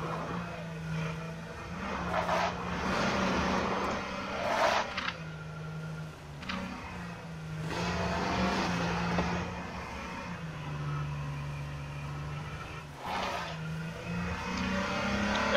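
A car engine drives steadily in the H1Z1 video game, holding a continuous droning tone that dips and climbs with gear shifts and throttle changes, with occasional louder surges, fairly loud and close throughout.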